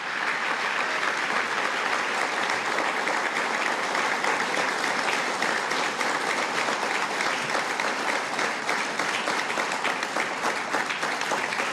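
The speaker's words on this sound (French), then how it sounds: "Merci pour vos applaudissements." Steady, dense applause from a large audience continues throughout at an even level, with no voices breaking through.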